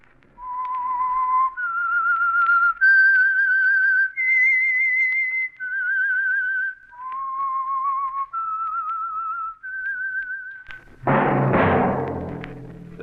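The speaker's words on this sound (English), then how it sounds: "That whistle is your signal." A human whistler performs the theme signal of The Whistler radio show, a clear, eerie melody of sustained notes stepping up and down, followed by a sudden burst of orchestral sound.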